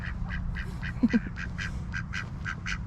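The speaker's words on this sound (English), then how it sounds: "chilling with my little ducklings" Ducklings quack in a park, a run of soft, repeated quacks in a quick, even rhythm over a low outdoor background rumble.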